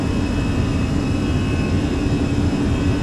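Airbus A320 jet engines at takeoff power in Microsoft Flight Simulator, a steady dense roar with a thin high whine running through it, loud and constant with no talking.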